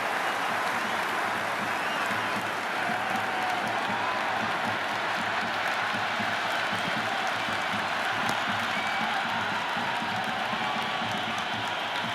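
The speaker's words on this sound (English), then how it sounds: "The crowd is electric right now." Loud, continuous stadium crowd in the Cricket 26 video game during an IPL match between RCB and SRH, cheering and applauding in a steady dense roar with occasional whoops throughout.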